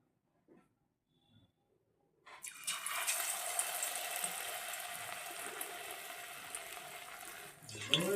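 Mourala fish cutlets drop into hot oil and set off a sudden, sustained crackling sizzle lasting about five seconds, preceded by a few quiet taps and ending abruptly with a clatter.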